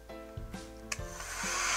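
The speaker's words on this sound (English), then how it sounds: "First time I'm going to try out my new heat gun." A new heat gun starts up after a few clicks and tonal hums, then settles into a rising, steady rush of blown hot air close to the microphone.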